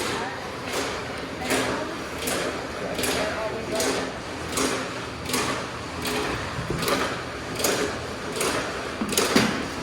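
Pecan cracking machines at a Missouri pecan farm run with a steady repeating mechanical clatter, roughly one sharp knock a second, close and loud, with people talking over it.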